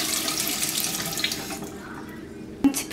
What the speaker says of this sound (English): Using lukewarm water, I'm going to wet the bristles.